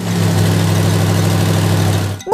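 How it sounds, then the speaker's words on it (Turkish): A jeep's engine drones steadily and loudly for about two seconds with a low, even hum, then cuts off abruptly near the end. "Jip giderken böyle ses çıkarır."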